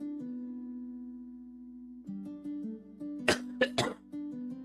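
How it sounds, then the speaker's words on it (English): A steady tonal hum is broken by a few sharp, close coughs in quick succession, with a throat-clearing rasp between them. "Excuse me, I have a cough right now,"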